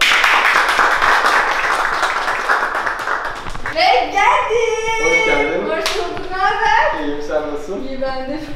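A studio audience claps and cheers to welcome a guest onto a cooking-show-style set; a burst of dense clapping for about three seconds gives way to lively chatter and voices.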